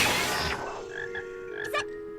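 A cartoon frog croaks in a short, fairly faint burst among other animated soundtrack sounds, with a brief brighter note near the end.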